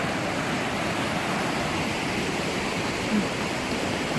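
Blakiston Falls and its silty river rushing steadily, a dense continuous roar of water close by with no talk.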